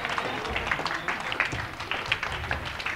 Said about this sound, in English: Okay, now everybody clapping if you've not processed it.